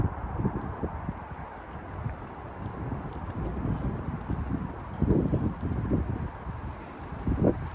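Wind gusts buffet the microphone in a continuous low rumble, swelling and fading in uneven bursts, with a faint high hiss behind it.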